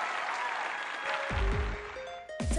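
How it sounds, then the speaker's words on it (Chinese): An audience applauds the children at a televised children's singing show, a broad burst of clapping that thins out as musical tones enter and continue to the end. "再一次把掌声送给我们今天的这些可爱的孩子们。"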